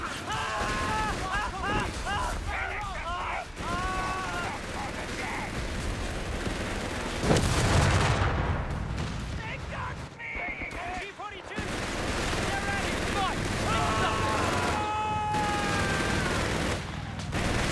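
Machine gun bursts amid battle noise in the real-time strategy game Company of Heroes 3, with a heavy mortar and flamethrower nearby; steady rattling fire and explosions run throughout, a loud blast near the middle, under a commentator's talk.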